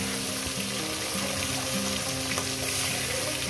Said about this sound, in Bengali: মাছের মাথাগুলো সুন্দর করে একটু লাল লাল করে ভেজে নেব